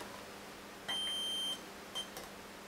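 A multimeter continuity beep while testing the wire of a coat hanger 10 m vertical antenna: one clear, steady electronic tone lasting about half a second, then a shorter second beep, over faint room hiss.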